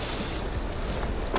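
Wind rushes in a steady broadband roar across a small sailboat in a bay, with no voices and only a faint brighter gust near the end.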